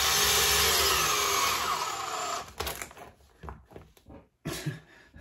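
An old XRP power drill, around 21 years old and well worn, whines loudly and continuously for about two and a half seconds, then cuts out, leaving a few short bursts and rattles.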